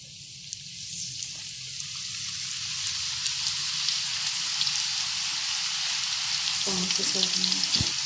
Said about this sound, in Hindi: अब हम इसको भी फ्राई कर लेंगे।